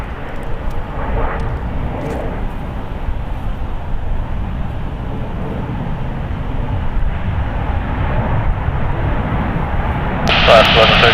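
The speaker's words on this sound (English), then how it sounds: "got Alaska Airlines flight 1132 coming in from Seattle" Alaska Airlines Boeing 737 MAX 9 jet arriving at San Francisco International Airport, a continuous broad roar of engine noise rumbling throughout with radio chatter over it.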